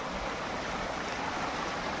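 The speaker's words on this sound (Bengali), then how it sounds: "আর একটা ঝর্ণা এখানে" A small jungle waterfall pours with a continuous, even rush of water, fairly close and steady throughout.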